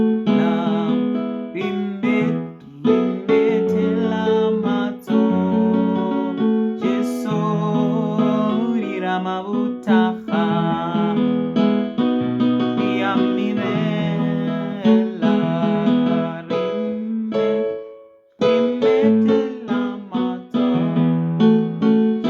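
A keyboard plays a melody with chords in a transposed key, notes sounding clearly and continuously with one short pause near the end.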